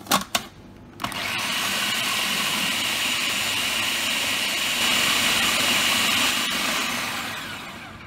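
A blender runs steadily on high speed, whirring through basil pesto with olive oil; a few short clicks come first, then a loud, continuous motor whine that holds for several seconds before easing slightly at the end.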